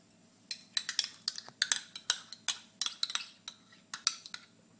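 A utensil clinks repeatedly against a dish while mayonnaise is mixed into a sauce, a close series of sharp metallic taps in an uneven stirring rhythm.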